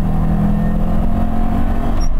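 An Alfa Romeo 33 with a small 1.4-litre engine pulls hard from inside the cabin, a steady loud drone with no pauses and no talk.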